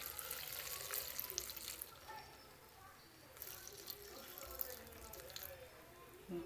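Milk is poured into a pan of lightly browned, salted onion, giving soft, quiet liquid splashing in a couple of short bursts, with a voice nearby.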